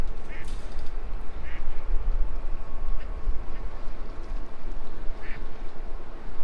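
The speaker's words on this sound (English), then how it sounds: "There's some ducks there." Several ducks quack in short bursts from a short distance, over steady wind rumble.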